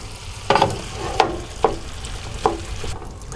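Green pepper and onions cook in a pan with a soft sizzle, punctuated by four sharp scrapes or taps of a utensil stirring them at close range.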